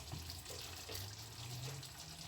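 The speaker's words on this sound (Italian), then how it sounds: "Adesso abbiamo aggiunto dell'acqua calda, deve essere calda in modo tale che la carne non venga dura" Hot water poured into a tajine of meat with apricots and raisins, a steady low gurgling stream running throughout, close and moderately loud with no talk.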